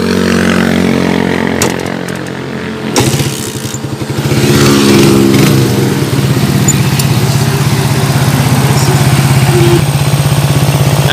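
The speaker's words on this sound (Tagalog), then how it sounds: "At pakinggan muna natin mga kabro yung kanyang andar. Yan, pandarin muna natin." A Suzuki Raider 150 Gen 2 motorcycle engine undergoing overhaul, idling loudly and up close with a fast, steady putter that briefly dips and then settles into an even running rhythm.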